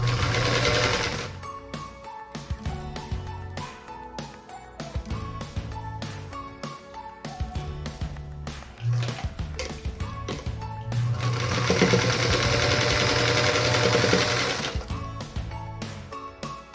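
A sewing machine runs steadily while stitching pieces of a Bryan's Star quilt block, its rapid mechanical whir continuous and close throughout, rising in intensity near the end with no talking.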